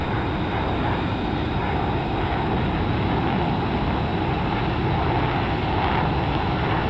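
An F-15EX fighter jet goes around during a low approach near Oakland and San Pablo Bay, its engines giving a steady, loud broadband roar that fills the whole span without a break.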